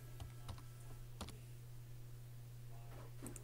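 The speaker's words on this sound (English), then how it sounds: "Gonna type live." Faint, sparse clicks of keys being tapped on a keyboard, irregular and soft over a steady low hum.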